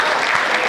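A brief, dense burst of audience clapping at a Hindi poetry gathering, loud and close, with no break in the sound.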